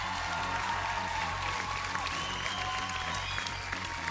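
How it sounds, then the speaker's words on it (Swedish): Steady, dense applause from a studio audience on the Swedish television talent show Idol Sverige, welcoming contestant Moa Carlebecker–Forssell. The clapping stays loud and even throughout, with light crowd murmur underneath. "En stor applåd för Moa!"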